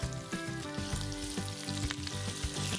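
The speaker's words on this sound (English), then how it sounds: "So when you hear the mustard seeds starting to sizzle and pop," Onions fry in hot oil with cumin and mustard seeds, giving a steady, dense sizzle with crackling pops, close and continuous throughout.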